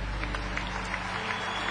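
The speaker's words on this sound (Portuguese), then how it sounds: "Aplausos para a sua condição de mulher." An audience at a Catholic talk claps together in a dense, even wash of applause that stays steady for the whole short stretch, with a low rumble beneath.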